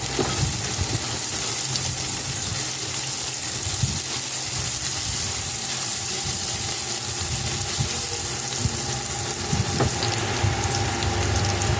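Chopped garlic sizzles steadily in a hot pan for munggo guisado with tomatoes, a continuous close crackling hiss with no voices.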